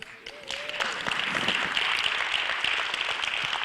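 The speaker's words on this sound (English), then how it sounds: "let's give a round of applause" Sustained audience applause in a large hall at a business event, a dense wash of many hands clapping that swells after a brief start and stays steady, with faint voices mixed in.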